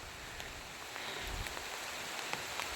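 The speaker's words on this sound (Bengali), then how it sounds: "রিমঝিম করে বৃষ্টি শুরু হয়েছে" Light rain falls steadily over a village with flattened paddy fields under cloudy skies, a soft continuous hiss with occasional faint drop ticks, no voices.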